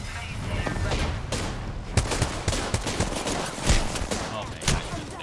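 Gunfire in a video game, rapid automatic bursts and overlapping shots forming a dense, loud fusillade that runs continuously, with a voice faintly present.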